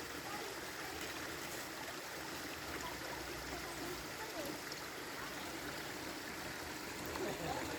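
River water flows in a steady, unbroken broadband rush outdoors, constant in level throughout with no distinct events standing out.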